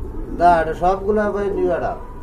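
Almond-faced pigeons coo in soft, repeated throaty bursts close by, with people talking nearby.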